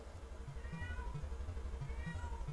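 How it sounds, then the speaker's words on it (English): A black cat meows faintly a couple of times, the thin drawn-out cries sitting over a steady low rumbling background hum indoors. "Why is that black cat mowling?"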